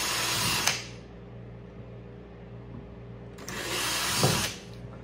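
A power drill bores screw holes into a kayak hull for gear tracks, with two loud bursts of high-pitched drilling separated by a quieter stretch of low motor hum, all close up.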